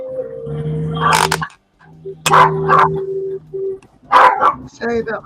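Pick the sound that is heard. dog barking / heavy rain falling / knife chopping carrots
dog barking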